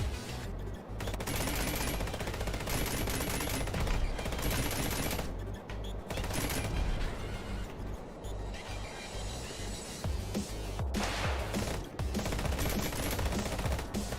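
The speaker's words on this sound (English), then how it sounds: "Oh, because he's shooting at me." Rapid bursts of automatic gunfire and shooting in the racing game Speed Limit fill the scene loudly and almost continuously, with brief gaps between volleys.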